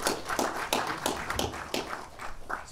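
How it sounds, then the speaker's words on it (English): Audience applause for the host Cadence at a presentation, a brief burst of clapping from a small crowd with uneven, overlapping claps. "Let's give Cadence another round of applause for hosting us and sponsoring us."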